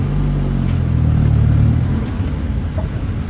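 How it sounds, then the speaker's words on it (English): A Triumph Acclaim's small engine revs while driving, a close, loud rumbling drone that holds and then eases off, with road noise continuing underneath. "Rev happy little engine does somewhat inspire spirited driving"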